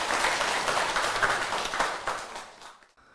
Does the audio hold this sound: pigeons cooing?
no